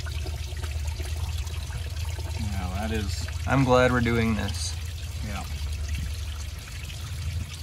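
Coolant and water drain out of a car's cooling system during a radiator flush with the thermostat removed, a steady pouring trickle running throughout beneath a continuous low hum, while people talk over it.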